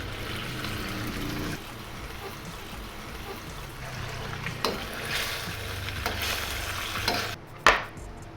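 Beef goes into a hot pan with mushrooms and vegetables for pan-fried noodles, producing a steady close sizzle with stirring scrapes throughout and a sharper clatter near the end.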